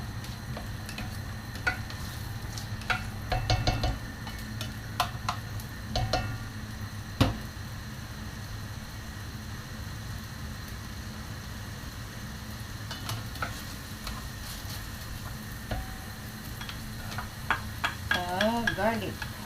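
Onion and garlic fry in a pan for chicken biryani, a soft steady sizzle with scattered light scrapes and taps of stirring utensils against the pan, fairly quiet and with no talking.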